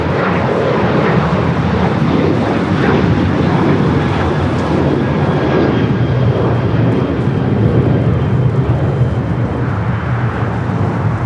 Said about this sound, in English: We do have the Lufthansa Queen approaching the 110 freeway.